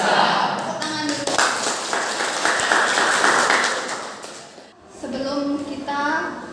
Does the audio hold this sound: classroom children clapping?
yes